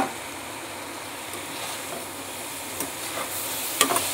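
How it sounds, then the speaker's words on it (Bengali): Elephant foot yam and potato pieces fry in spice masala in a pan, with a steady close sizzle and a few light clinks of a spatula near the end. "এবার আমি ওল আর আলুটা দিয়ে দিলাম"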